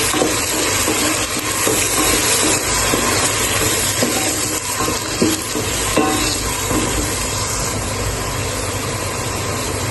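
Onion paste frying in a pan for a prawn and bottle gourd curry, a steady broadband sizzle with scraping stir strokes throughout, close and fairly loud with no voices.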